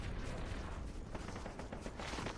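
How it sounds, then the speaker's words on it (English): Gunfire in Fortnite near the reboot van, a dense crackle of shots packed closely together at moderate, steady loudness with no one speaking. "It's gunshots by the reboot van."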